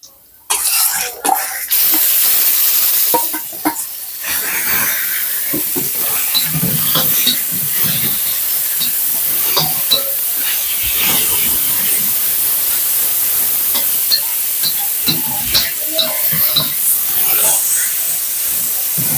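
Fried rice with pork is stir-fried in a hot pan, hissing and steaming loudly and continuously up close, broken by a few sharp clatters and a cough.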